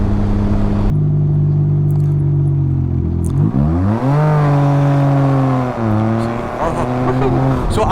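A Can-Am Ryker three-wheeler pulling away hard from a rolling start, its engine note climbing loud and steady through rising shifts, close and continuous with a rider's voice over it.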